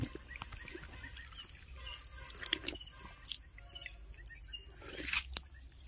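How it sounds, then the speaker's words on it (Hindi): Cold water from a village hand pump in the Uttarakhand hills splashes and drips faintly outdoors, with scattered small splatters and a soft, uneven trickle over quiet background. "ये हमारे गांव का हैंड पंप,"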